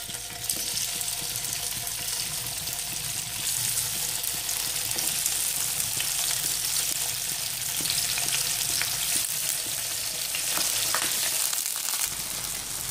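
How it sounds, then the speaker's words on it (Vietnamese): Tofu frying in hot oil in a pan, a loud, dense, continuous sizzle and crackle that holds steady close up, with no voices. "Khi dầu nóng lên rồi, sôi rồi thì mình sẽ cho đậu vào để mình rán lên."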